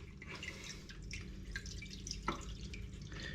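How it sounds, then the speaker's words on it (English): Water draining out through a clean length of hose during a siphon, a steady soft liquid trickle with occasional drips, fairly close and continuous without talk. "Always make sure you've got a clean bit of hose to get that siphoned out."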